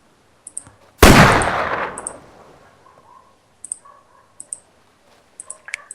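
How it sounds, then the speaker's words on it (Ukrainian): A single sharp gunshot blast in a DayZ video game, with a fading echo tail, followed by scattered faint clicks and small metallic taps. "Я стріляю"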